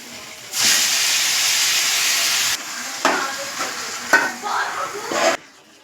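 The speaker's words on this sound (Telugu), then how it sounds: "బాగా వేగినాక చికెన్ వేసేసుకోవాలి." Chicken pieces fry in a hot pan, a steady loud sizzle and hiss that breaks into bursts of scraping and clattering as the pieces are stirred, ending abruptly.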